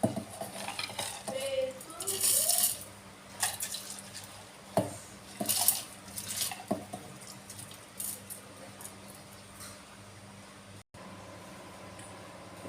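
Soaked green gram (moong) tipped into a mixer jar in a home kitchen while preparing dosa batter, giving a few soft scattered clinks, rattles and wet splashes with quiet pauses between them.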